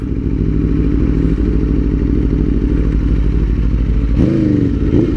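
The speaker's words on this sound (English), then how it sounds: "Basically when I upshift, I'm actually grabbing 2 gears instead of just 1 gear." A motorcycle engine runs steady and loud throughout, with the pitch shifting abruptly near the end as the rider clicks up two gears at once using the clutch.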